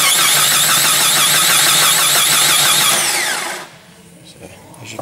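Jeep Cherokee engine cranking over without starting: a loud, close starter whir with a steady rhythmic pulse for about three and a half seconds, then it cuts off, leaving quiet handling noises.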